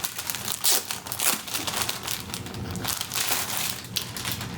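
A clear plastic bag wrapping a drawstring makeup bag crinkles and crunches as it is opened, a close, steady rustling with louder crackly bursts, no talking.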